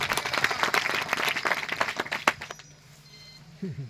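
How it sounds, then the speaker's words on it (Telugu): A congregation at a Christmas celebration in Palimela claps loudly and rapidly for about two and a half seconds, then the applause stops abruptly and a brief voice follows. "గట్టిగా చప్పట్లు కొడుతూ దేవుని మహిమపరచండి."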